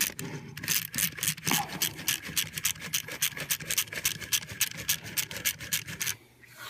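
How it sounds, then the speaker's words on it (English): Toy drill on a Beast Wars II Galvatron Transformers figure spinning, a rapid rasping whir made of quick regular pulses, close and steady for about six seconds before stopping. "this little button right here, you saw it when the neck spins, makes the drill spin."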